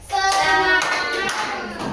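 Children in a madrasa classroom clap a short rhythmic pattern of a few sharp claps, close and loud, mixed with their chanted voices.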